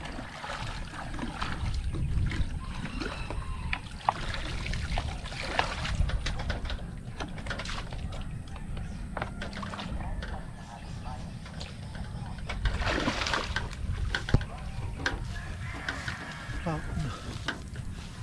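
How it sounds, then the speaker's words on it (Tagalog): Feet being washed in water outdoors on a rural farm in the Philippines, with splashing and trickling water under steady talk. "maghuhugas muna si Bossing ng kanyang paa"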